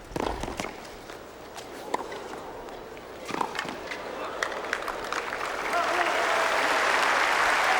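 Crowd at a 2002 US Open first-round tennis match between Jennifer Capriati and Bethanie Mattek-Sands, with scattered claps and shuffling early that swell into sustained, fairly loud applause over the last couple of seconds.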